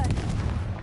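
The Confringo blasting spell in Hogwarts Legacy goes off as a sharp, loud burst with a short crackling tail, one quick impact close by.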